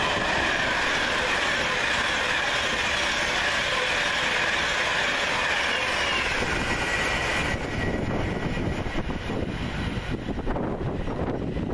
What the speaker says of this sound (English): here comes 39126, working 1H64 from London Euston to Manchester Piccadilly via Crewe